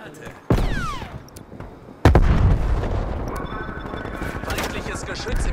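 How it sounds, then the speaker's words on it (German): A grenade blast and gunfire in Call of Duty Black Ops Cold War multiplayer: two loud, close booms with a lingering rumble, followed by continuous crackling battle noise. "Werfe Granate."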